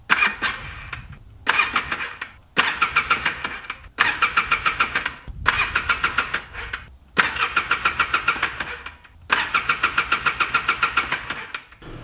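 Four-wheeler engine that won't start, cranked repeatedly in about seven separate bursts of rapid starter chugging, each cutting off without catching, close and loud with short pauses between.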